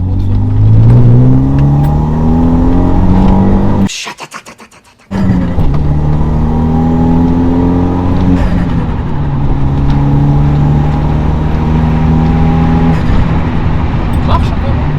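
A 250 hp Subaru family car engine revs up loud and close, with a steady rising whine and a brief drop about four seconds in before pulling hard again, with no talk over it.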